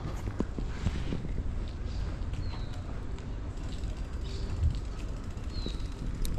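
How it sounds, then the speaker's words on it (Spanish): A few faint bird chirps ring out now and then over a steady outdoor hush on a quiet inner street of the Agronomía neighborhood, with soft footsteps and low rumbling ambience in the background. "Escuchen los pájaros."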